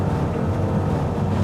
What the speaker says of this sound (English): As you hear, the engine is screaming